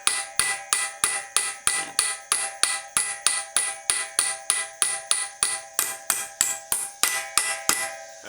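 A hammer pounds a repair sleeve onto the output shaft of a 1960 Ford F100, about twenty sharp metallic strikes in a steady rhythm with ringing tones, close and loud with no talk.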